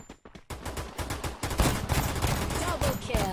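Rapid gunfire from the Free Fire battle game during a 4 vs 4 Clash Squad match, dense bursts of shots and a sustained fusillade rolling on loudly throughout.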